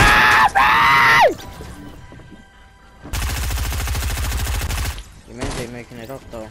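Automatic gunfire in a video game rattles out as one dense, loud, sustained burst lasting nearly two seconds, with a shouting voice before it and more voice afterward.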